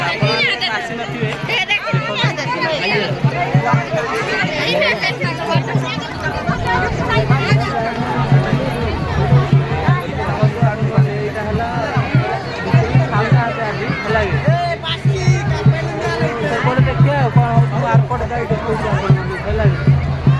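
Large crowd at a Mahashivratri night celebration in Pune, a dense continuous hubbub of many voices with chatter and movement throughout, loud and close, with a steady low hum running under the noise.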